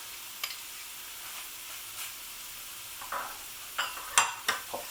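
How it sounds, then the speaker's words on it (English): Curry paste frying in a pan at home, with a faint steady sizzle and a few soft scraping spoon stirs that grow more frequent toward the end. "I'm going to fry this for approximately 2 minutes, getting all of it off the spoon."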